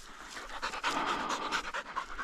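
Hunting dogs out after Mearns quail in Arizona pant rapidly and steadily up close, a continuous, rhythmic huffing breath that rises and falls with no talking.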